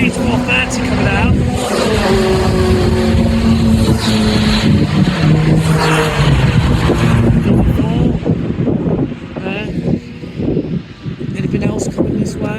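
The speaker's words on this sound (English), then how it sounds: "There's the C430 coming out." A C430 race car drives past at a Donington Park track day, its engine note rising and then falling as it passes close by and fades away. Other track noise and people talking carry on over it.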